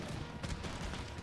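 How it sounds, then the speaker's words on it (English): Cannon and musket fire in a battle in Empire Total War gives a dense, continuous rumble of booming shots and crackling volleys, loud and unbroken throughout. "Deploy your guns and open fire."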